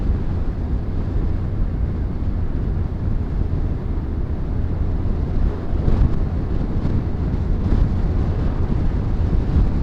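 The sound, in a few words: wind blowing on motorcycle vlog camera microphone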